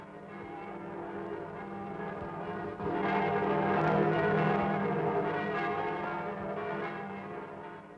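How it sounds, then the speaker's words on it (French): Church bells ring steadily in a dense, sustained peal. Overlapping tolls blend into a continuous wash that swells slightly partway through, with no voices. "Les cloches ont sonné dans tous les ciels de France"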